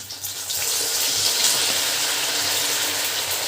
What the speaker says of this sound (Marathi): आता हे आपल्याला सर्व टाकून द्यायचं आहे तेलामध्ये